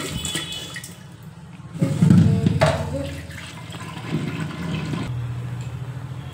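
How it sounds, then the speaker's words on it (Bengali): Rice being rinsed under a running tap, water splashing into a vessel with a louder gush near the middle, then a lighter steady trickle, no voices. "তাই চালটা ধুয়ে নিই"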